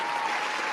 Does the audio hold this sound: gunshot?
no